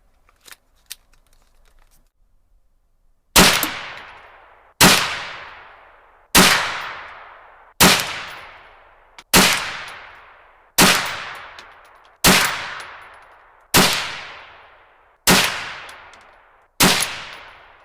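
A CZ 512 or Savage A22 .22 WMR rifle fires CCI TNT 30-grain hollow-point rounds outdoors in a field test: ten sharp, loud cracks at a steady pace of roughly one every 1.5 seconds, each leaving a short decaying ring, after faint handling noises.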